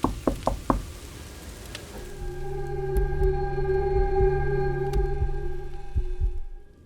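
Four quick knocks land in a rapid cluster, followed by a low, ominous droning hum with occasional soft thuds.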